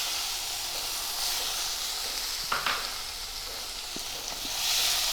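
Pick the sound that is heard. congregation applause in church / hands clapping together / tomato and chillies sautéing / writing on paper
tomato and chillies sautéing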